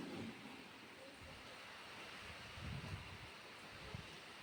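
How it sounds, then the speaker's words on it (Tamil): Steady rainfall with water flowing near a doorstep makes an even, close wash of hissing noise, with a few low rumbling swells partway through and no one talking. "மழை பெஞ்சிட்ருக்குது பாருங்கள்."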